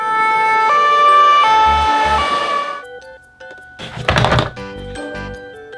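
A loud electronic toy siren wails in stepped, alternating tones, then cuts off, followed by clattering handling noises and a brief electronic tone.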